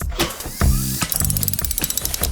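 Cartoon tow truck Tilly's big winch reeling in its line, a loud, close ratcheting clatter of gears and pawl clicks that runs steadily over bright tonal notes.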